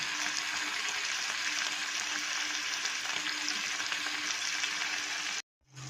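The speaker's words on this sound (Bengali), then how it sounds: "মশলাটা যখন ভাজা হয়ে গেল" Ground cumin, coriander and a little chili powder, added after turmeric, fry in hot oil with a steady, dense sizzle that holds evenly close by, then cuts out abruptly near the end.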